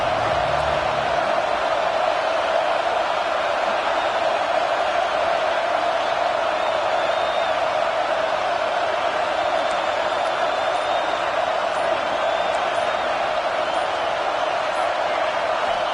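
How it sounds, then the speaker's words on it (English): Football stadium crowd roaring at a game, a loud, steady wash of distant massed voices holding unbroken throughout, with no clear single voice standing out. "this crowd is fired up. Listen to this noise here."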